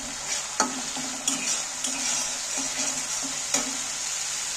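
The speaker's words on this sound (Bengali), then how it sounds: "এটা ভাজা হয়ে গেছে, তেল ছেড়ে দিয়েছে মশলাটা দিয়ে" Masala spices fry in hot oil for a chickpea chole curry while being stirred, giving a steady close sizzle with occasional sharp knocks of the spoon against the pot.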